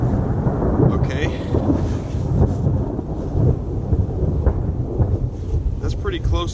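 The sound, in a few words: thunder from close lightning during a rainstorm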